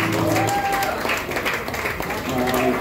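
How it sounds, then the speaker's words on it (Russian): An audience applauds a 15-year-old harmonica player at a live show, a dense wash of clapping that stays loud for the whole stretch, mixed with voices. "Аплодисментов на Рэкову, ребята!"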